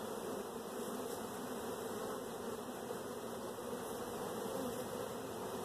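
A honeybee colony buzzes steadily during a frame inspection for a cell builder, a dense continuous drone close to the listener with no pauses and no voices.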